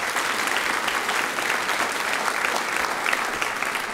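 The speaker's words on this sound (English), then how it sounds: "let's give her a round of applause." Continuous, dense clapping from an audience at a university student teacher recognition ceremony, even and steady throughout with no pauses.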